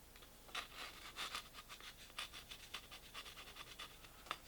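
Rough sandpaper rubbing burrs from the worn inside of a flute, a run of short, close scratchy strokes in an uneven rhythm, with no voices.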